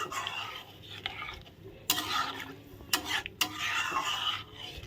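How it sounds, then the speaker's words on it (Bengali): Soybean curry with spices stirred in a pot, scraping and swishing strokes in bursts with a few sharp clanks of the spoon against the metal, fairly quiet and close. "এখন একটু ভালো করে নেড়ে চিনে নিচ্ছি আমি"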